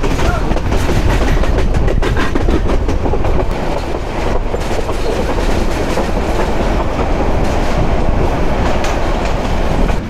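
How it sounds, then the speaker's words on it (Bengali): Meghna Express intercity train rolling into the Chittagong railway station platform, a loud, continuous rumble and clickety-clack of wheels on track that holds steady for the full stretch. "এই যে আমাদের ট্রেন সাপের মতো হেলে দুলে এঁকে বেঁকে প্ল্যাটফর্মে ঢুকছে চট্টগ্রাম রেলওয়ে স্টেশনে।"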